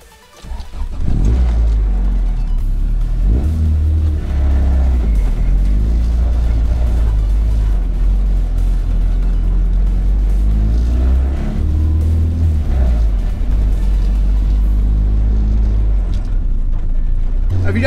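A Honda CRX fitted with a hydraulic clutch conversion drives along, its engine droning loud and steady from inside the cabin, revs rising and falling through gear changes, while someone talks over it.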